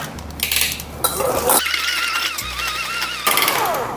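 Softened cream cheese being creamed in a bowl for a milk drink, with steady scraping and clinking of a utensil against the bowl, a sustained mechanical whir through much of it, and no talking.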